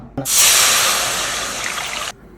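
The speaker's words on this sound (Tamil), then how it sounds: "இப்போ இதில் நம்ம தண்ணி ஆட் பண்ணிடலாம்." Water pours steadily into a cooking pot for boiling noodles, a close, even rushing hiss lasting about two seconds before it stops abruptly.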